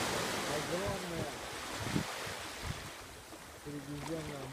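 Mediterranean Sea waves wash onto a beach in Limassol, a steady wide rush of surf and wind noise with faint voices drifting in the background.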